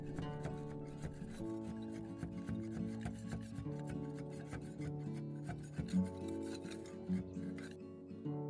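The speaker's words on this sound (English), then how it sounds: "So I just scraped and scraped until" Old paint being scraped off blue window frames, heard as continuous rasping strokes in a quick, repeated rhythm over a low steady hum, with a couple of heavier scuffs near the end.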